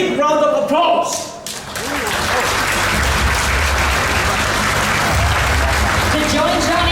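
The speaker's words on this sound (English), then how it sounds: "give them a big round of applause." Loud audience applause erupts at the ASUS Computex 2017 event, a dense roar of clapping from a large crowd that follows a brief stretch of amplified voice at the start.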